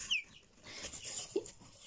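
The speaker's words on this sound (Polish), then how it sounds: "Więc dwa koguty na chwilę obecną i 14 kurek przyszłych." Roosters and hens shut inside a sack give faint, muffled clucks and short calls, with soft rustling between them.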